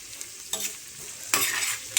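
Onion and garlic dropped into hot oil, with bursts of sizzling and stirring scrapes rising in two main surges, close and fairly quiet, with no voices.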